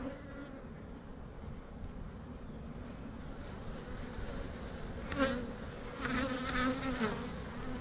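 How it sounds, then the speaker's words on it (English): Honey bees, nurse bees atop an opened hive, producing a steady low droning buzz throughout, with a few closer individual bees swelling louder near the end. "Bunch of nurse bees up top here."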